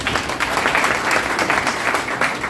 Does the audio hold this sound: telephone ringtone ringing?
no